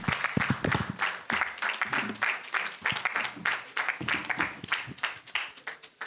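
An audience at a leadership event claps to welcome a guest speaker, producing rhythmic, fairly close applause with distinct individual claps. Some low voices and movement come through underneath.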